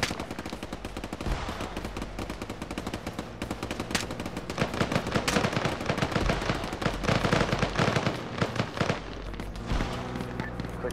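Dense gunfire in a military video game, rapid machine-gun bursts and overlapping shots crackling continuously at close to mid range, loud throughout.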